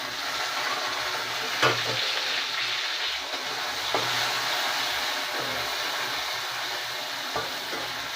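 Chopped tomato with ginger fries in a pan with a soft, continuous sizzle, broken by a few scraping spatula strokes as it is stirred, close and without talk.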